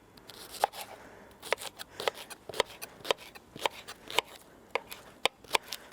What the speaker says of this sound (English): So we're going to give that first of all a little rough chop.